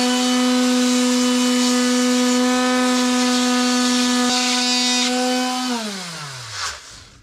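Power sander working hard oak with 80 grit sandpaper, a loud steady motor whine with a bright abrasive hiss that runs continuously before the motor spins down at the end.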